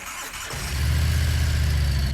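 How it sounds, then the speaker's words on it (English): A Harley-Davidson motorcycle engine cranks and catches after about half a second, then settles into a loud, steady, throbbing idle close by. "So we'll go ahead and start it back up."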